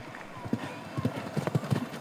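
A show jumping horse at an international Rolex-sponsored competition pounds across the arena in quick rhythmic hoofbeats, close and distinct, with a commentator talking over the galloping.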